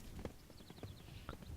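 Line of invisible sheep walking in Oblivion, their hooves producing a run of soft clip-clop steps at an uneven pace, moderately close, with no talking.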